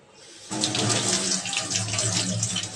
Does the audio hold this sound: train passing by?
no